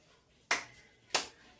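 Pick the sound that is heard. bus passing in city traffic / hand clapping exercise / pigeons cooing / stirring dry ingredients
hand clapping exercise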